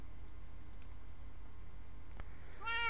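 A single short cat meow from the Minecraft video game rises near the end of the clip over a steady low background hum, with no talking.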